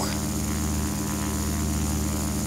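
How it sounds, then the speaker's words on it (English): A Waco YMF-5 biplane's radial engine drones loud and continuous in Flight Simulator X, a dense buzzing hum with a rough edge as it strains while climbing. "I hear that engine starting to struggle there."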